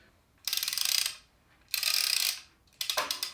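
A Parkside cordless impact wrench fires three close, loud bursts of rapid hammering, each about a second long, with short pauses between them.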